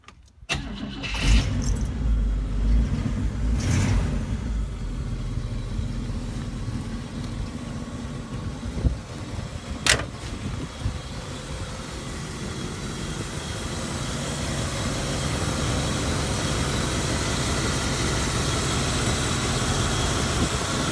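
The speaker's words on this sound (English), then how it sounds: "Let me start it up for you." A 1959 Cadillac De Ville four-door sedan engine cranks briefly, catches with a loud roar, then settles into a steady, smooth idle that continues close by for the rest of the clip.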